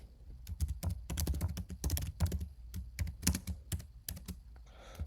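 Notes are typed on a computer keyboard: close, crisp key clicks in quick uneven bursts with short pauses between them, heard alone.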